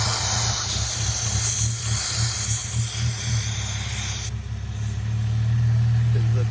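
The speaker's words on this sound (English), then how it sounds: "it still makes like a hissing noise with this on, and the car like shakes a little bit though" A 2007 Cadillac CTS engine idles with a vacuum leak, giving a steady broadband hiss over a low, shaky engine rumble that runs unbroken and close throughout.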